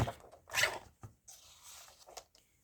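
The white edge of a paper piece is trimmed off in a papercraft project: a few close, crisp snipping and rustling sounds in short irregular bursts, with quiet pauses between.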